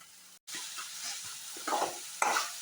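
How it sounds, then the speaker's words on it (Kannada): Ginger garlic paste and tomato fry in a pan with a soft continuous sizzle, stirred by a utensil that scrapes and taps nearby in a few bursts. "ಜಿಂಜರ್ ಗಾರ್ಲಿಕ್ ಸ್ಮೆಲ್ ಹೋಗೋ ತನಕ ಫ್ರೈ ಆಗಲಿ."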